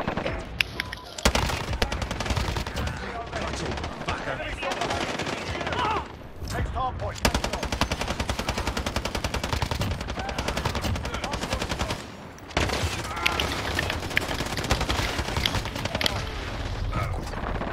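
Rapid FiNN LMG machine gun fire in a Season 5 Reloaded shooter game, dense sustained bursts filling most of the stretch with two brief pauses, loud and close.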